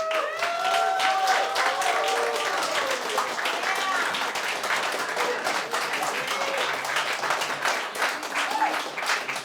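Audience applause at a live debate stream, a steady wash of clapping with crowd murmur and scattered voices mixed in throughout.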